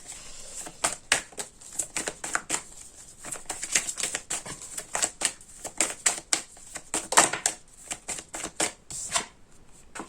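Tarot cards are shuffled by hand close up in quick repeated bursts of crisp riffling and slapping, uneven in rhythm, with brief pauses between the bursts and no talk.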